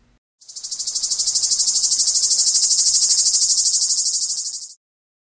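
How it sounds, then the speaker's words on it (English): A loud, steady cicada buzz with a fast pulsing texture, starting abruptly and cutting off after about four seconds, with nothing else audible. "Cicada"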